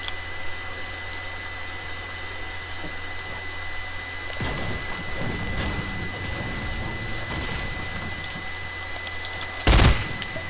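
Fortnite gunfire rattles in bursts of rapid shots over continuous game noise, with a louder blast near the end.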